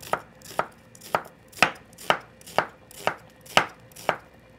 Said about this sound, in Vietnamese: Bây giờ mình cũng cắt ra mỏng mỏng dài dài như thế này.